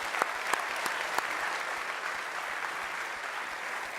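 Applause from a crowd at the Vendée Globe 2017 trophy ceremony, a dense steady patter of many hands clapping with a few sharper claps standing out, continuing throughout.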